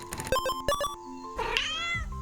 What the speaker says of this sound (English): I heard cat noise